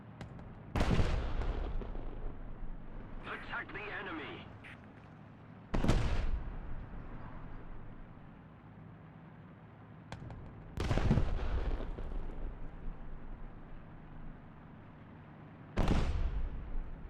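Artillery explosions in a video game, with four loud, sharp blasts spaced about five seconds apart, each followed by a long rumbling decay into quieter background noise.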